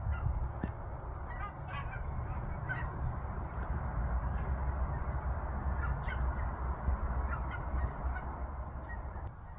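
Geese or crows honking and cawing repeatedly over a steady, noisy outdoor background, with several calls overlapping throughout.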